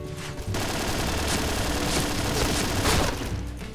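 Rapid automatic bursts of AUG rifle fire ring out in a first-person shooter game, loud and dense, with a sharper crack near the end and no talk.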